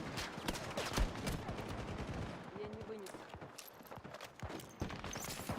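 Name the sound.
gunfire in the video game Battlefield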